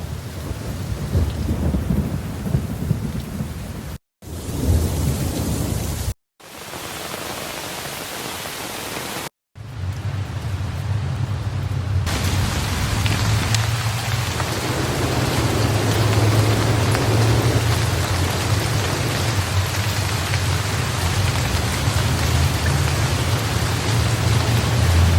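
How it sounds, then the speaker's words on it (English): Mixed sleep soundscape of rain drumming on a tent, steady rainfall and a thunderstorm: dense, constant hiss with deep rumbling underneath, broken by a few brief silent gaps early on, then continuous and full. "I combined Rain on a Tent, Rain Original, and Thunderstorm"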